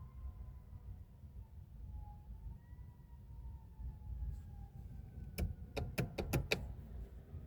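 A faint wailing siren rises and falls in the distance over low rumbling traffic, joined near the end by a few sharp clicks.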